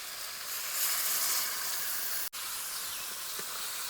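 Elephant foot yam curry sizzles hard in a pan just after water is added, a loud steady steaming hiss with one abrupt brief cut-out midway and no voices.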